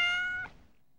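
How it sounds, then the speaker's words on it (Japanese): A cat meows once from upstairs in a dark mansion in the horror game Otogiriso, a single clear drawn-out meow that fades quickly into quiet. "暗くなった途端、上から猫の声だ。"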